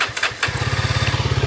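Yezdi Scrambler motorcycle, 2022 model, starting up: a few clicks and a brief crank, then the engine catches into a steady, loud, pulsing low thump that carries to the end.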